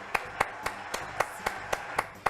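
Sharp, evenly spaced claps ring out in a steady rhythm on a TV studio show, as an audience claps for a singer, each beat crisp and distinct.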